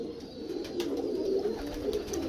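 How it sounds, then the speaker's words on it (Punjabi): A pure Sialkoti pigeon with pearl markings coos in a low, steady, rolling murmur, close and continuous, with faint chirps from other birds in the background. "ਇਹ ਜਿਹੜੀ ਹੈ ਇਹ ਮੋਤੀਆਂ ਵਾਲਾ ਕਬੂਤਰ"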